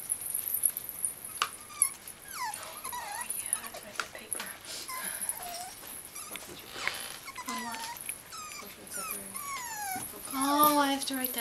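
A blue French Bulldog puppy whimpers and yips in high, wavering cries, some short and some drawn out, scattered through the stretch at close range, while a person talks nearby.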